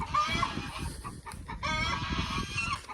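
Hens at a backyard chicken coop cackle loudly after laying an egg, with repeated squawking clucks and calls close by, continuous over a few seconds.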